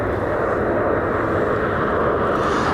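A United Boeing 787-10 Dreamliner airliner arriving at Cleveland gives off a steady broadband jet roar at moderate distance, continuous throughout with no talk.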